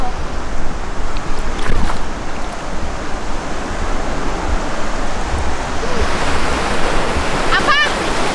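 Steady broadband roar of ocean surf washing ashore on a beach, loud and continuous, with a brief rustle and faint clicks near the end.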